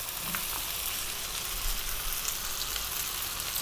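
Celery, green beans, carrots and cauliflower sizzle on high heat, a loud, dense, continuous frying hiss with light stirring movement.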